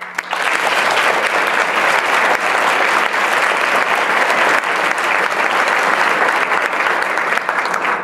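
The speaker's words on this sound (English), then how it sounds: "we offer a round of applause" Dense, steady applause from an audience at a recognition luncheon, loud and continuous for the full span without speech over it.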